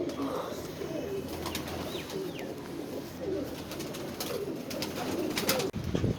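Domestic pigeons coo softly and repeatedly under a steady outdoor background hum, with a few sharper bird calls breaking through in bad weather.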